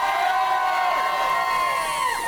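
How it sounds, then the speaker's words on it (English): An audience cheers loudly and steadily at a live comedy entertainment show, a dense crowd roar with whoops and shouts sustained throughout. "Pretty strong cheer there."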